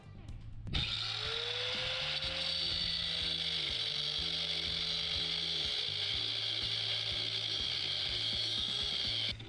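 A power tool cuts about an inch off a mini bike suspension part, a loud continuous whining grind holding steady for several seconds after starting up, close by and without talk.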